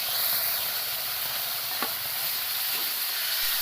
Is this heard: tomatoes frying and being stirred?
yes